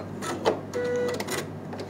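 A sewing machine stitches fabric for a patchwork piece, a short steady mechanical whir at moderate level, with a brief higher squeak partway through.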